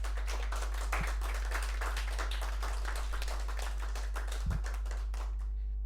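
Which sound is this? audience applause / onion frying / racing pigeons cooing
audience applause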